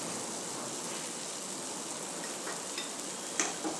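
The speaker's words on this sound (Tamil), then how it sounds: "இப்போ இதையும் நம்ம நல்லா வணக்கிக்கலாங்க" Grated coconut sautéing in a pan for a chickpea (sundal) curry, a steady soft sizzle throughout with a couple of brief scraping stir sounds near the end, no talking.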